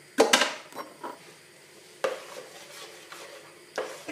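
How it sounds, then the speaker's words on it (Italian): Dorayaki batter is stirred in a bowl with a few scraping, clinking strokes spaced irregularly and heard up close, with no talk over them. "Continuiamo a girare l'impasto."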